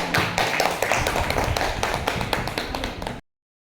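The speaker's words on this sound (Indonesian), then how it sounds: "Kasih tepuk tangan dong teman-teman" Classmates in a school classroom clap together, a dense run of close, loud hand claps lasting about three seconds and then stopping abruptly into silence.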